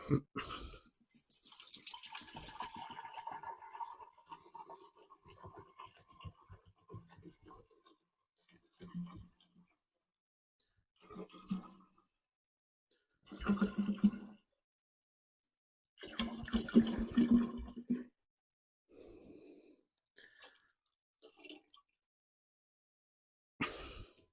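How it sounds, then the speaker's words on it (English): Water pours from a bottle into a Pinter 3 home-brew vessel in several bursts of splashing and gurgling, separated by short quiet gaps, heard close and fairly faint. "So we'll put the water in."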